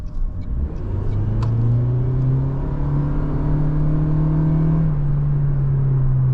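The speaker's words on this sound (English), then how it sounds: "I'll listen to this acceleration." A 2026 Toyota Prius AWD accelerating in sport mode, a steady rising engine and motor hum with a smooth whirring drone that climbs in pitch, loud and continuous from inside the car with no talk.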